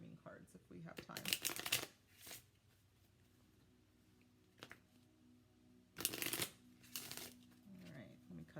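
A deck of tarot cards is shuffled and cut in two quick, crisp bursts of riffling close to the microphone, with quiet pauses and soft talk between them.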